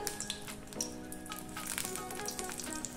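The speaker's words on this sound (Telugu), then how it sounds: "లో ఫ్లేమ్ మీద వీటిని వేపుకోవాలి." Stuffed bitter gourds frying in hot oil over a low flame give a steady, close sizzle with fine crackling pops, continuous and without speech.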